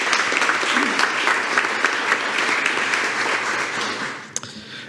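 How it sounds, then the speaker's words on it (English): A large audience at a school district board meeting applauds a junior high dance team, steady dense clapping that holds loud for about four seconds before thinning out at the end. "Let's give them a round of applause"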